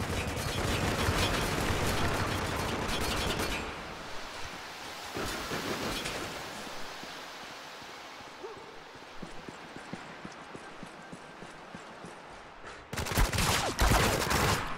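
Gunfire in the video game Spec Ops The Line, with bursts of rapid shots at the start and again at the end separated by quieter stretches with scattered pops.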